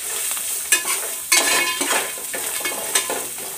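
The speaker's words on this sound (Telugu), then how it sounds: "అల్లం ఎల్లిగడ్డ పేస్ట్ వేసిన, పసుపు, ఈ రెండు జర పచ్చి వాసన పోయేదాకా కలుపుకోవాలి" Ginger-garlic paste and turmeric fry in hot oil in a pan while a spoon stirs, giving a continuous sizzle broken by scraping strokes and a few metallic clinks, close and fairly loud.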